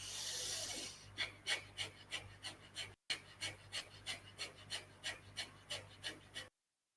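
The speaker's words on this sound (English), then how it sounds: "Breath of fire for 60 breaths." Rapid rhythmic breath-of-fire pranayama, a string of quick forceful nasal exhalations about two per second, close and even, following a longer opening breath.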